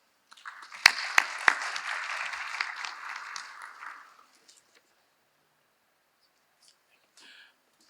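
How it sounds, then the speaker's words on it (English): An audience applauds to welcome Dr. Ebrahim Ghasemi of Capco Company, a dense burst of clapping with a few sharp louder claps that fades out after about four seconds, then near silence. "please put your hands together for Dr. Ghasemi"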